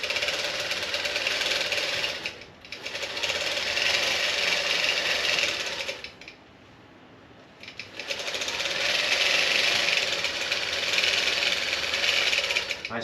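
A long-arm quilting machine stitches a regular stitch along a quilt's edge, a steady, loud mechanical whirr with a rapid needle rhythm that runs continuously, dips into a brief pause around the middle, then resumes at full pace.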